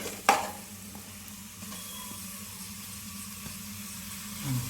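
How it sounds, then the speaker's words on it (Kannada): Vegetables and tomato frying in a pan for veg biryani: one sharp clink of a utensil near the start, then a soft, steady sizzle and low background hum throughout. "ಎಲ್ಲ ವೆಜಿಟೇಬಲ್ಸ್ ಎಲ್ಲ ಹಾಕ್ಬಿಟ್ಟು ನೀಟಾಗಿ ಫ್ರೈ ಮಾಡಿ ನೆಕ್ಸ್ಟು ಟೊಮೊಟೊ ಆ್ಯಡ್ ಮಾಡ್ತಾ ಇದ್ದೀವಿ"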